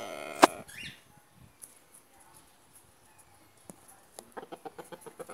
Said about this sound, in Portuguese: Está aqui o meu galo.